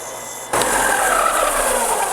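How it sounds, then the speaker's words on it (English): A power sander starts abruptly and runs steadily against a cedar wood fishing lure, a loud, continuous abrasive whir with a gritty hiss that holds unbroken to the end. "I can take this to the power sander and make some headway."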